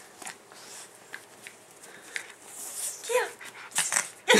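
A large dog whimpers and gives short yips and barks in scattered bursts, fairly close, with a few louder calls near the end and people talking faintly in between.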